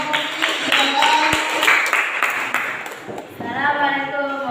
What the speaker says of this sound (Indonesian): Ya, kita persilakan tepuk tangan ya.